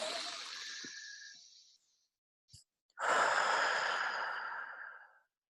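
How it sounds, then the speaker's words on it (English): Slow, deep breathing during a guided affirmation exercise: a long airy breath that fades out, a brief silent gap with a small catch of breath, then another full, drawn-out breath, close and alone. "Take a couple deep breaths."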